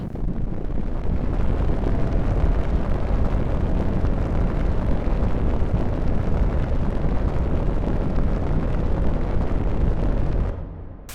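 Spaceship thrusters blasting off a planet surface in SpaceBourne 2, a loud continuous roaring rumble that holds steady for about ten seconds before cutting off abruptly.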